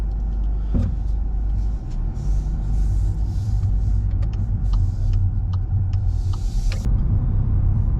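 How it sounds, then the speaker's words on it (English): A 2022 VW Golf Life drives along the road, heard from inside as a steady low engine and road rumble with a faint hiss of tyres and a few light clicks, no one speaking. "gonna go for a drive in the Golf"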